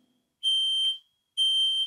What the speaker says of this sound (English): I'm gonna set off a simulated smoke alarm